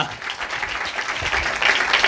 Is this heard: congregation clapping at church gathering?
yes